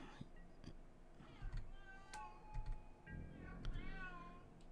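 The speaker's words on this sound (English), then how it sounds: "Oh, cat." A cat meows several times in short, fairly faint calls over a quiet room, with a little light ticking in the background.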